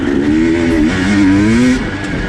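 A KTM 250 two-stroke dirt bike geared 12/50 revs hard in third gear, a loud, close, steady buzzing engine note that rises and wavers slightly before easing off.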